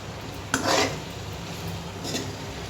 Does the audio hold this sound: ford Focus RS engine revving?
no